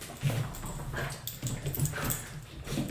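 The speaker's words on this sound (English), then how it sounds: "can you hear my dog?" A dog whimpers and whines close by in a home, with repeated high nasal cries in short bursts over steady background hum.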